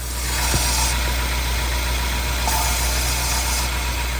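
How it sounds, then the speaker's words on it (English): A Range Rover L322 with a 5.0L engine idling, a constant loud low-pitched hum and vibration close by after a short click, steady throughout with no talking. "let's fire it up"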